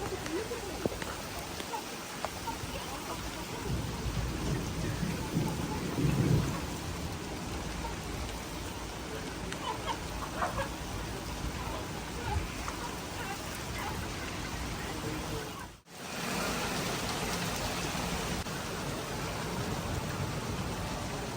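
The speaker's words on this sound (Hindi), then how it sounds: "तेज़ बारिश आना शुरू हो गई" Steady heavy rain pours down in a dense, continuous hiss, loud and close, with a brief dip partway through.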